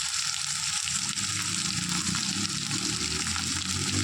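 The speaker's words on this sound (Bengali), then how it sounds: "মশলাটা প্রথমে আমি একটু ভালো করে কষিয়ে নেব।" Masala with tomato, salt and turmeric frying in a pan, a steady close sizzle with faint stirring and bubbling throughout, no talking.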